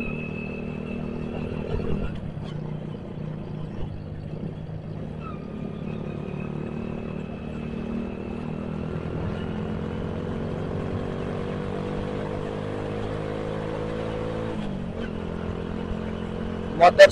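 A Honda Suprax motorcycle rides at night, its engine droning steadily with gradual pitch rises and dips as it accelerates and shifts, heard close from the rider's position with wind rumble throughout.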